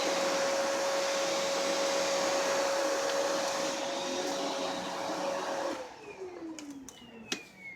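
A Kenmore Elite Crossover canister vacuum runs with a loud, steady whirring hum and a constant motor tone, then switches off and its pitch slides downward as it winds down into faint clicks.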